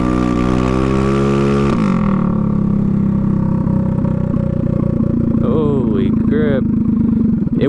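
Small drag-racing scooter engine revving at half throttle, a rising buzzy drone that steps up sharply after two seconds and holds steady and loud, with a brief higher whine near the end.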